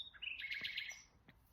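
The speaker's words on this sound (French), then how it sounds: "de ce chant d'oiseau qui est là" A single bird sings a short, bright phrase of high chirps and trills, fairly close and clear against a quiet background.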